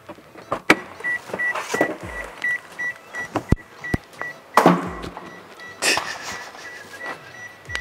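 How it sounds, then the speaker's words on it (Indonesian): Electric car lift raising a car in a workshop, a whining motor hum with repeated short beeps, clicks and sharp metallic clunks spread across the lift's operation, fairly close. "untuk tahap selanjutnya kita coba menaikkan mobil ke atas car lift"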